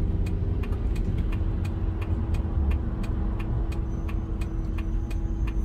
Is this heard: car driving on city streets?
yes